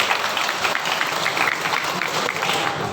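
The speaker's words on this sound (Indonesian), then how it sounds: "Saya ingin mereka diberikan aplaus." Steady, dense applause from a theatre audience after a stage performance, loud and continuous throughout with many hands clapping together and no voices standing out.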